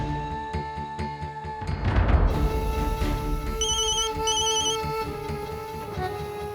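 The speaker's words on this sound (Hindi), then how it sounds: "रिंग तो यहाँ से आ रही है।" A mobile phone plays a melodic ringtone indoors, a repeating tune with chiming high beeps that rings on steadily without anyone talking over it.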